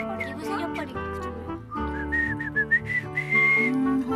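Someone whistles a short melodic tune, clear and close, with bright sustained notes and little runs, accompanied by background music.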